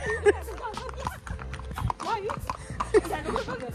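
Horse hooves clip-clop steadily while the animal is ridden on a family trip to Matheran hill station; people talk over the irregular hoofbeats throughout.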